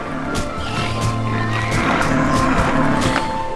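Horse neigh from the video game Titan Quest, a single loud whinny with game background sounds, no talking.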